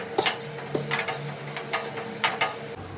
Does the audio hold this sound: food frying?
yes